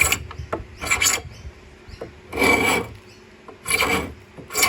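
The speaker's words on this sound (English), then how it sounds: "So I'm going to use this scraper" A hand scraper strips thick old paint from a wooden meat safe in four or five loud, rasping strokes, each a second or so long, with quiet gaps between them.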